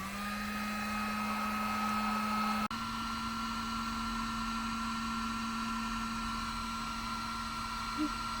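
A steady, close whirring drone, like a heat gun, plays as the fenders of a BMW E36 convertible are heated before rolling. The tone dips and shifts briefly partway through, then holds constant.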